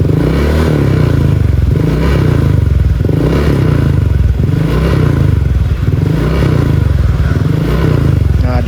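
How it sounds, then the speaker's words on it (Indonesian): Motorcycle fitted with a deep bass aftermarket exhaust, revved repeatedly and then dropped abruptly off the throttle, giving loud, close, booming pulses with a popping, hollow rumble between rises, heard alone without talk. "kalau kalian yang nggak suka knalpot ember, menurut saya sudah dipastikan ini ember banget"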